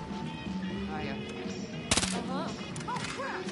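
Gunfire from a weapon in Far Cry New Dawn bursts out as a sudden loud rattle of a few rapid shots midway, over a busy backdrop of game music and tonal effects, with a voice briefly speaking.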